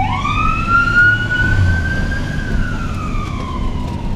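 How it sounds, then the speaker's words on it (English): A fire truck siren wails as the truck passes nearby in traffic, heard from inside an older Chevy C10 pickup; a loud rising and falling tone sweeps past over low road and engine rumble. "Let me let this fire truck pass."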